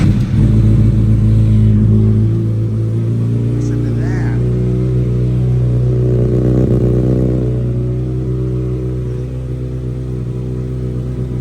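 A 2019 Kawasaki ZX6R 636cc sport motorcycle engine rumbles steadily up close, with a low throbbing idle and slight revving throughout, while a voice speaks briefly over it.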